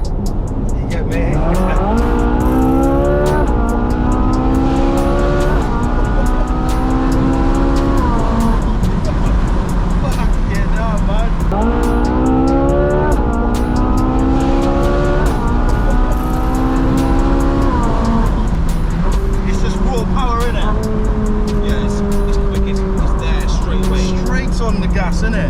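A Ferrari 458 Spider with a 4.4-litre V8 revs hard from inside the cabin, its loud engine note climbing sharply through several gears in repeated rising pulls with brief dips at each shift, while people talk over it.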